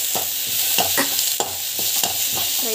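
Okra and spices sauté in a pan, a steady sizzle broken by a series of sharp scraping stirs of a spoon or spatula roughly every half second, close and alone.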